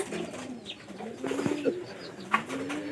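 Domestic pigeons in a loft coo in repeated low, rolling calls close by, with a few brief chirps and light background noise.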